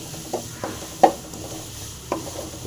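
Bitter gourd pickle is stirred and fried in a pan, giving a soft background sizzle broken by a few distinct spoon scrapes and knocks spaced about half a second to a second apart.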